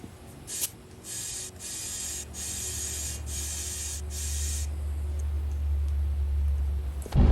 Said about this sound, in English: Let's go put some air in these things